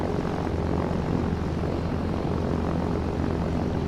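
A Cessna propeller plane's engine in the Arma 3 video game drones steadily and continuously at a constant, fairly loud level throughout.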